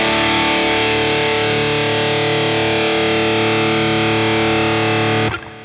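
An electric guitar runs through a Danelectro Cool Cat distortion pedal while its treble control is turned, giving a loud, saturated chord that sustains with a thick, buzzing edge, then is cut off sharply near the end, with no talk.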